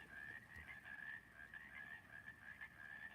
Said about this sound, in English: who let the frogs out?